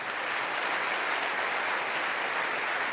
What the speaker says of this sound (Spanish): Alguien tiene que aplaudir más fuerte que eso.